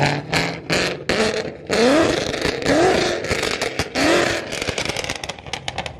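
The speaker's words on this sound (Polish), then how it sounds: "Pokażmy jak chodzi boss na wydechu od MG Motorsport." A Ford Mustang Boss 302 V8 with an aftermarket valved exhaust revs in several sharp, loud blips close by, each rising and dropping quickly between short idling pauses.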